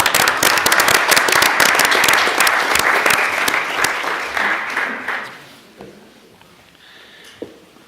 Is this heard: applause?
yes